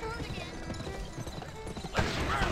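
Hooves clatter and a horse whinnies as it tramples enemies in the video game GUN, with a loud burst near the end and soft talking underneath.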